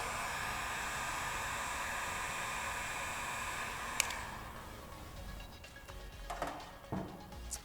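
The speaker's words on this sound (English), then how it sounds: "I even like to do a post heat on it before I make my pull." A heat gun post-heats vinyl wrap over knifeless tape with a steady airy whir that cuts off partway through, followed by a few soft handling rustles and taps.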